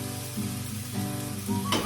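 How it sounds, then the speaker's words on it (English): Garlic and potatoes browning in a hot pan, a loud continuous close sizzle with a brief sharper burst of frying near the end. "out of the garlic while also browning the potatoes. So that's what's happening right now"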